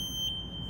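Start-up alarm of an S12 ride-on wet floor scrubber as the key is turned on, a steady high-pitched electronic tone with a brief brighter blip, over a low hum.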